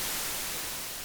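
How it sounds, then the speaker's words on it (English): Steady, full-band hiss of white noise from an Arturia PolyBrute analog synthesizer, loud and continuous without pauses or talking. "Now let's bring in some noise, white noise"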